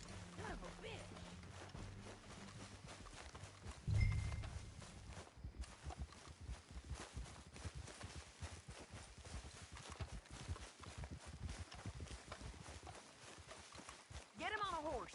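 Horse hooves clip-clop in a steady walking rhythm in a video game, with a brief low thump and a voice speaking over part of it.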